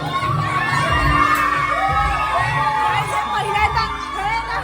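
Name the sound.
crowd cheering in celebration after winning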